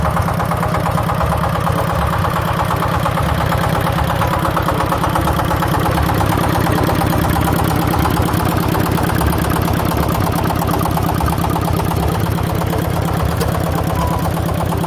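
A long-neglected power tiller brought back to life with an electric charger, its engine running at a steady idle: a loud, continuous, evenly pulsing mechanical drone close by, with no pauses or talk.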